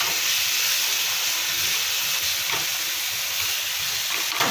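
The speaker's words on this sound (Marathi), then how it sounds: "खमंग खरपूस अशी ती आता फ्राय करायची, तेल सुटेपर्यंत." Ground garlic and coconut chutney sizzles in hot oil with a steady, close, continuous frying hiss and a few faint stirring scrapes, with no talking.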